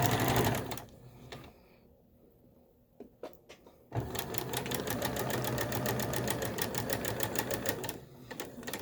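Sewing machine stitching elastic onto a fabric mask: after a quiet stretch with a few small knocks, the motor starts and runs steadily with a close, rapid needle chatter.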